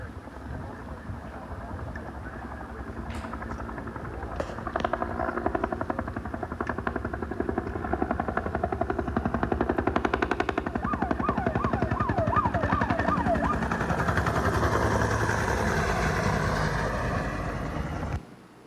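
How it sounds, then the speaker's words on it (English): A large Type 1 firefighting helicopter from LA County flies through a night aerial firefighting operation, its loud, steady rotor and turbine roar holding close for the whole stretch with a thumping low-end beat and a shifting engine whine. "the big difference is a Type 1 helicopter from LA County"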